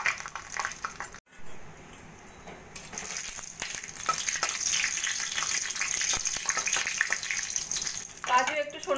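Cashews fry in hot oil in a wok with a steady close sizzle. It cuts out briefly near the start, then returns fuller and louder with scattered crackles.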